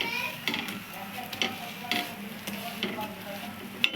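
Mughlai paratha frying in a pan in a home kitchen, with a steady close sizzle and crackle broken by sharp clicks and scrapes of a spatula against the pan.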